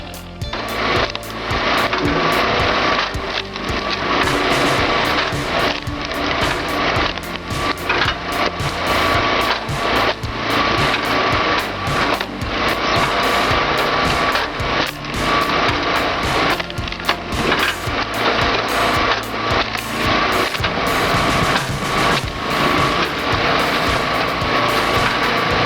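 A small tractor's engine runs hard and continuously up close while it grips and works an old oak tree, a loud high-pitched mechanical whine with cracking, splintering wood layered throughout.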